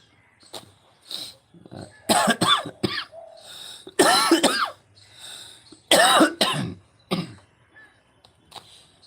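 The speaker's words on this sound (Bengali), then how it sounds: "সরি কাশি হচ্ছে ভালো লাগছে না" A person with a fever and body aches coughs repeatedly in harsh, close bursts, several separate fits spaced by short pauses, with some throat clearing between them.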